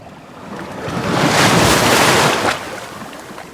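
Ocean waves surge and break on the shore, swelling into a loud, broad roar of rushing surf before easing back to a softer wash, with some wind noise and no voices.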